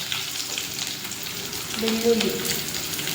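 Beetroot stir-fry ingredients sizzling and crackling in hot oil, a steady close hiss with a brief louder burst of popping partway through and no talking over it.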